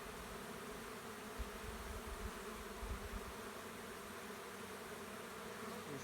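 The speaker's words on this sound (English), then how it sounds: "There's quite a few bees hanging on the bottom there" A dense, steady drone of honeybees fills the air around a hive frame in a mating nuc, continuous and close with no voices.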